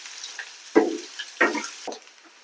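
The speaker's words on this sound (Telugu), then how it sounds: "మనకి బాగా ఆయిల్లోనే ఆనియన్స్ అన్ని వేగాలి." Onions frying in oil in a pan as they are stirred, giving three short bursts of sizzling and scraping over a quiet steady hiss with no voices.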